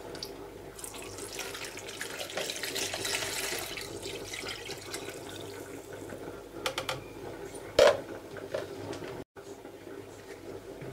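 Tap water runs steadily for about eight seconds as half a litre is measured out for homemade orange juice, with a brief louder splash or clunk near the end, then a short break.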